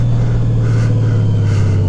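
A 2018 Honda Goldwing Tour motorcycle fitted with loud aftermarket mufflers idles and revs close by, a deep steady exhaust rumble with slight swells in intensity, with no talking.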